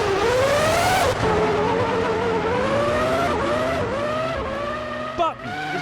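A Formula One car in the Formula One 2003 game on the Austrian Grand Prix circuit entering the pits, loud engine whine rising and falling through gear changes with a brief tire squeal near the end.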